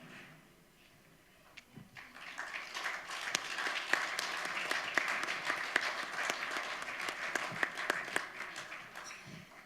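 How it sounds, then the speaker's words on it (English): An audience at a conference breaks into applause, building from quiet to a full, sustained burst of many hands clapping at moderate distance, with faint voices mixed in. "Another big round of applause for our brothers and sisters from Brazil."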